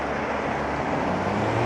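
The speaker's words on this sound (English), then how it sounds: "quite the big truck there." A big truck rumbling past on a town street, a steady broad roar with low engine drone building slightly toward the end, close and loud, no talking.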